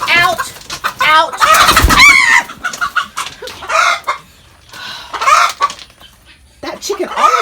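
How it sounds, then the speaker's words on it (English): A chicken clucks and squawks loudly inside a farm feed room in bursts, with a person shouting over the bird and talking between calls. "There's a chicken in here!"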